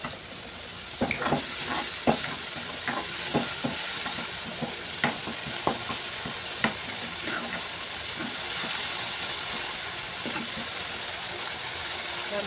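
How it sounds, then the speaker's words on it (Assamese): Spice paste frying in oil, a constant loud sizzling hiss with a run of quick spoon scrapes and taps stirring in the pan, then easing into a steady sizzle. "মছলাটো অকণমান এনেকৈ ভাজি ল'ব লাগিব"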